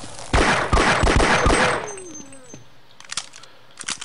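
Half-Life gunfire rattles in a rapid burst of several sharp shots, then cuts off, leaving a falling tone and a few faint clicks in quieter game ambience.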